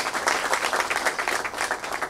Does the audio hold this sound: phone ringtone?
no